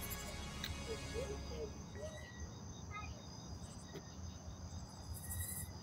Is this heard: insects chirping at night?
yes